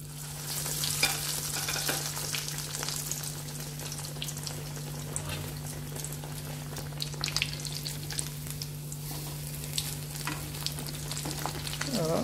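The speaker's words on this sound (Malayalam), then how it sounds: "ബ്രെഡ് ഇതിൽ മുക്കിയിട്ട് ഇങ്ങനെ റെഡിയാക്കി വെച്ചിട്ടുണ്ട്. ഇനി നമുക്കിതൊന്ന് പൊരിച്ചെടുക്കണം." Bread slices dipped in batter fry in hot oil, giving a steady close sizzle and crackle throughout, with a constant low hum beneath and a few faint clinks.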